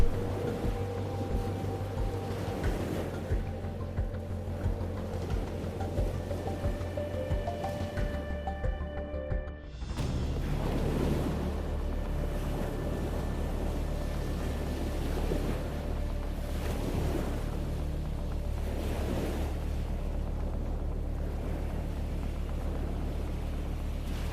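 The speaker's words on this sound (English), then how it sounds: "The winches screech, the engines roar, and the entire ship shakes as the nets slowly rise from the water" Shrimp fishing boat at sea in the Gulf of Mexico, its engines roaring steadily with a deep rumble while winches haul nets, tonal machine whines rising over constant wash and wind.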